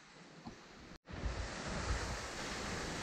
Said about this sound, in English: We're at a beautiful waterfall.